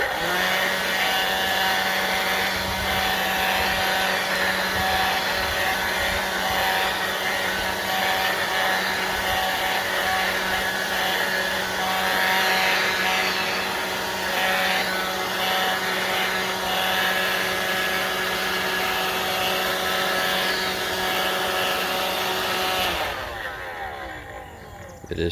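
Black + Decker cordless battery leaf blower running steadily at close range for over twenty seconds, a loud continuous whirring roar with a high motor whine, cutting off near the end.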